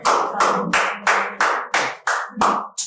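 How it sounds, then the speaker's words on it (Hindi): An audience at a Hindi poetry event claps in a strong rhythmic unison, with about eight evenly spaced loud, sharp beats, close and clear. "एक बार जोरदार ताली होनी चाहिए"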